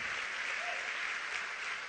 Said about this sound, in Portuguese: A igreja pode dar um forte aplauso para o Senhor Jesus Cristo.